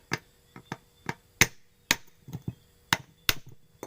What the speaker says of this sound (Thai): ก็ใช้ค้อนเคาะตรงนี้นะครับ